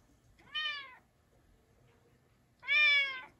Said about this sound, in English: He's a happy little kitty cat.